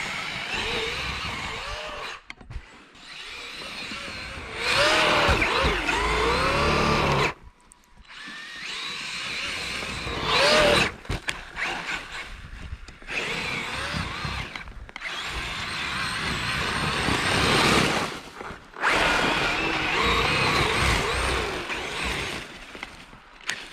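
A Traxxas Maxx RC truck with Pro-Line Badlands tires tearing across snow jumps on a plowed driveway, its electric motor whining in loud high-pitched bursts that rise and fall, broken by short quiet gaps between runs.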